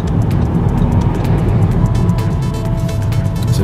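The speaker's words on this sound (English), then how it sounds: "It's a V6 F-Type." A Jaguar F-Type V6 sports car on a busy London street produces a loud, sustained engine roar and exhaust rumble close by, with heavy traffic noise around it and no talking.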